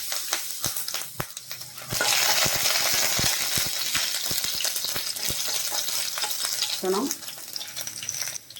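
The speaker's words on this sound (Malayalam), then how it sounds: "വെളിച്ചെണ്ണ ചൂടായിട്ടുണ്ട്. ഇനി നമുക്ക് കടുകിടാം. ഈ സമയം ഉഴുന്നും കൂടി ഇടാം." Mustard seeds and urad dal fry in hot coconut oil, a steady close sizzle scattered with sharp popping crackles from the seeds throughout.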